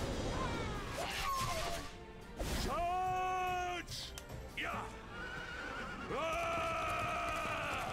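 Horses in the video game Dragon Quest 11 neigh and whinny several times in loud, shrill bursts, mixed with game noise and occasional talk.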